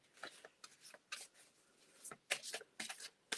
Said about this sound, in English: So I am shuffling for you here, Donna.